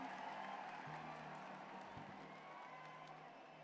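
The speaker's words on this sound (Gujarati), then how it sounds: "ખૂબ ખૂબ તેજ તાળીઓ સાથે એમનું સ્વાગત કરવામાં આવે" Audience applause welcoming the Prime Minister at Narendra Modi Stadium in Ahmedabad during the Amul golden jubilee celebration, a faint, distant, steady wash of clapping from a large crowd with a low hum beneath.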